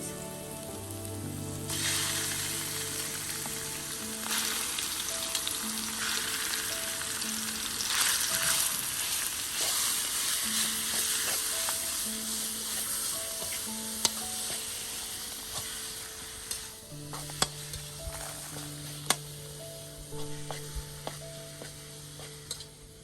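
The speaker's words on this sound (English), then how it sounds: "Mix these two meat together. High heat." Minced meat stir-fried over high heat in hot oil with shiitake mushrooms for Thai spring roll filling, a steady close sizzle with occasional scrapes and taps of the spatula, no talking.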